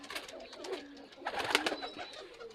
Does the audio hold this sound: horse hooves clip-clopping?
no